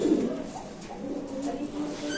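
Large pigeons kept for sale coo softly at a Bangladeshi pigeon market, a low, faint murmur that is strongest at the start and then trails off amid quiet background noise.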